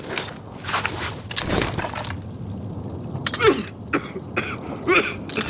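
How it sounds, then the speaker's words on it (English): A character coughs in gas in the video game Call of Duty Warzone on Rebirth Island, with several rough coughs and throat-clearing sounds in short bursts among footsteps and game noise. "Why is it coughing? I have a gas mask."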